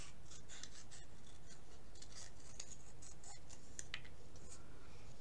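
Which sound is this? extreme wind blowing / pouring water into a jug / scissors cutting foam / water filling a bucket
scissors cutting foam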